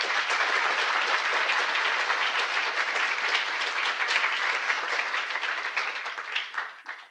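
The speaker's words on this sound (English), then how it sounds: "give Dr. Grandin one more round of applause as a thank you" Dense, sustained audience applause at a student STEM career showcase, many hands clapping loudly for several seconds before fading out at the end.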